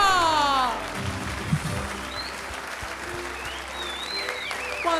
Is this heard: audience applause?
yes